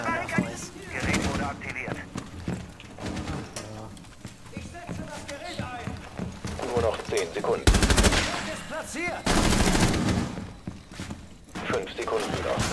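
Gunfire in the video game Rainbow Six: Siege. Sharp shots and bursts ring out amid footsteps and other game noise, with two loud blasts near the end. People talk over it throughout.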